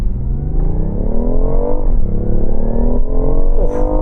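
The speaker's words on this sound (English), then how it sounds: "Ryan, let's do a 0 to 60." A BMW plug-in hybrid car launches from 0 to 60, its engine note climbing loud and close through the revs, with brief dips at each gear change before it pulls on.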